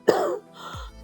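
A single short, dry cough, close and abrupt, followed by a brief throat-clearing rasp.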